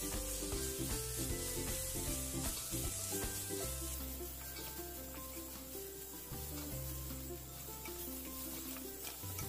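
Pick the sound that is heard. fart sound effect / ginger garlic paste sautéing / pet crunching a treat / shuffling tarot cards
ginger garlic paste sautéing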